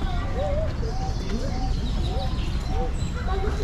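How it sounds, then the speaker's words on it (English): Birds at the San Diego Zoo call in repeated short chirps and whistles against a busy background of visitor chatter and footsteps. "Lots of different birds."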